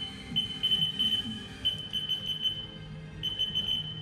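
A Haas VF0E CNC machine sounds its alarm, a series of short high electronic beeps in uneven clusters, moderately loud over a low background hum.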